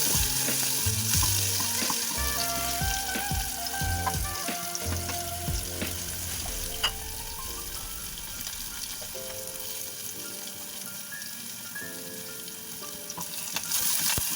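Diced potatoes and peas fry in hot oil with whole garam masala and a bay leaf, a loud close sizzle with occasional spoon scrapes and stirring clatter, steady throughout with no talking.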